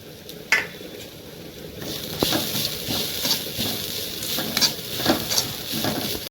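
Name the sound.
grated coconut and curry leaves frying in a pan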